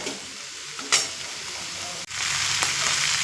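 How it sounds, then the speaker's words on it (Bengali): Pumpkin, potato and prawns fry in a pan over low to medium heat, a bright, continuous sizzle close by with a couple of stirring knocks and a brief cut midway, no speech. "কুমড়ো আর আলু আর চিংড়ি মাছ দিয়ে আবারও দু থেকে তিন মিনিট মতো একটু কষিয়ে নেব"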